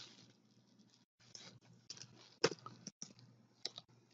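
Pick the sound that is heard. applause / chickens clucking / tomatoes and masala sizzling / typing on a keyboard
typing on a keyboard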